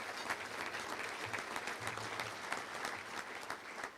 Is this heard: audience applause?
yes